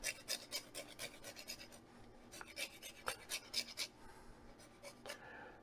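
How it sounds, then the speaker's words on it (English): A key lime rasped against a grater in quick, uneven strokes, bursts of fine scraping that come close and clear, pausing briefly before a few more passes. "just do one more quick little zest here"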